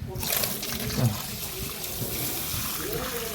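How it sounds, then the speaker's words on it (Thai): Water spray rinses refrigerator parts during a repair of a fridge that cools poorly, a steady hissing wash running throughout at moderate level, with voices faintly present under it. "ฉีดล้างน้ำ"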